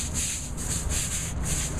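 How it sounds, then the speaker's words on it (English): A push broom scrubs soapy water across a roof surface in short back-and-forth strokes, giving a close, rhythmic bristly rasp with no voices. "then we'll just scrub it a little bit with one of the push brooms"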